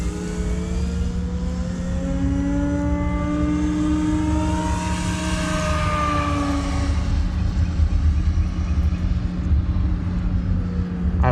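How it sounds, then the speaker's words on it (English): A giant-scale E-flite Carbon Z Cub SS RC float plane, electric on 22.2 volts, makes a slow flyby with flaps down, its propeller drone rising and then falling in pitch as it passes, loud and steady against outdoor background noise. "Drop the flaps and do a nice slow flyby."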